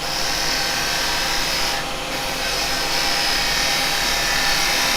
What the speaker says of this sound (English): Put my bevel on and raise my handle, and I can get in a little peeling cut there.